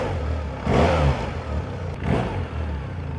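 An R1300GS motorcycle engine idles with a steady rumble and is revved twice in quick bursts, loud and close.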